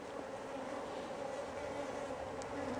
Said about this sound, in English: So lovely friendly colony of bees here, F1 Buckfast from Black Mountain Honey.